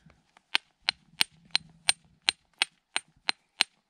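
Rock hammer striking obsidian at Glass Butte, about ten sharp, evenly spaced cracking knocks, loud and close, with faint rustling between blows.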